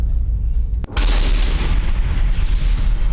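A missile strike in Ukraine explodes with a sharp crack, then a loud, sustained broadband roar and rumble that continues to the end.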